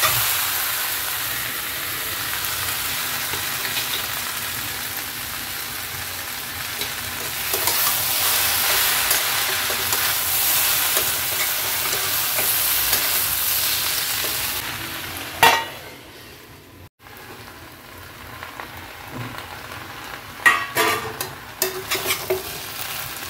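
Onion stalks and shrimp fry in a pan with a continuous sizzling hiss while being stirred, and a few sharp scraping clatters of the utensil come near the end.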